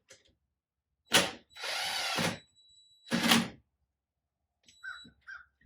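A power tool snugs down engine rocker arm bolts in short, loud whirring bursts, two brief and one longer, close up, with a few quieter ticks and clicks afterward and otherwise silence.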